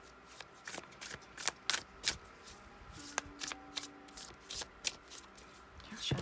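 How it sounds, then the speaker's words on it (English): Tarot cards shuffled in a series of crisp riffling bursts and slaps, close and fairly loud, with brief pauses between flurries and no talking. "Shuffle"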